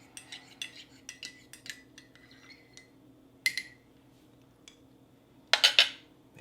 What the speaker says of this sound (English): Give our mochaccino a stir.